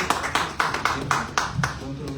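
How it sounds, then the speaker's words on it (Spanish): A short burst of applause after a host asks a dinner audience to welcome a doctor, with about eight rhythmic clapping peaks over continuous room noise and murmuring voices. "Un fuerte aplauso"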